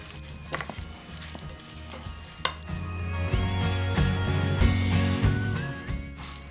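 Marinated chicken with lemon juice being mixed by hand or spoon in a bowl, giving a close, wet, squelching and stirring sound with a few soft knocks, steady throughout with no talk.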